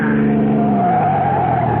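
A car skids hard with a sustained tire squeal and straining engine as it is forced off the road in a radio drama, loud and close, with no voices over it.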